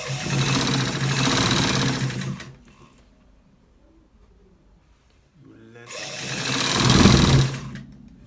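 A sewing machine stitches a collar shirt in two loud, steady bursts of rapid whirring, separated by a quiet pause.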